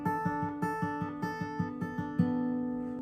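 An acoustic guitar chord is fingerpicked in a repeating middle, pointer, thumb pattern, about a dozen clear plucked notes in an even rhythm, ringing close and alone before the last chord sustains and fades.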